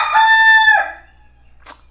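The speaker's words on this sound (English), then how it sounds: "I have a rooster that lives inside half the day, so don't mind him." A rooster crows indoors, one loud, close, harmonic cock-a-doodle-doo lasting under a second, followed by a short faint trailing sound in a quiet room.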